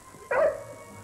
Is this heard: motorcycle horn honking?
no